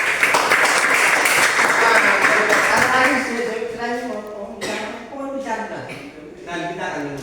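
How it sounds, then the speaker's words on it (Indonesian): A classroom of students applauds a pupil named Lydia, loud group clapping at first that fades as a teacher's voice takes over and speaks over the tail. "Oke, tepuk tangan untuk Lydia."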